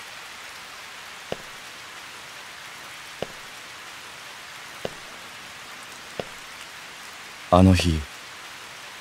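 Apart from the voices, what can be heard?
rain falling, from Oninaki game trailer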